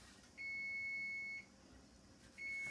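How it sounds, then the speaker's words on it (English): A kitchen timer on a stovetop cooking setup beeps in a sustained high tone for about a second, pauses, then starts beeping again, clear and fairly loud with no talking. "I think I'm going to kill this timer though."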